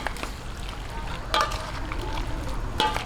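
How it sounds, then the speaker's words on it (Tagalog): Pancit miki guisado noodles being stirred in a pan with oyster sauce, giving a steady close bubbling sizzle broken by a few sharp scrapes and clanks of the utensil. "Oyster sauce. Ayan, atin na pong haluin."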